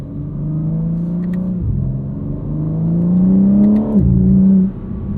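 A 2022 BMW M4 Competition xDrive engine pulling hard from the cabin, a loud steady drone that rises in pitch, drops sharply at each gear change and climbs again.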